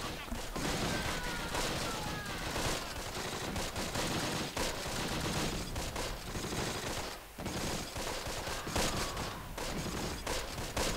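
Gunfire in the World War II strategy video game Close Combat, dense bursts of rifle and machine-gun fire rattling almost without pause, loud and sustained throughout.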